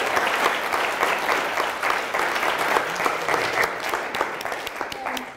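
An audience claps steadily after a talk, dense continuous applause from a crowd of many hands filling the room at an even level, with a few voices faintly mixed in.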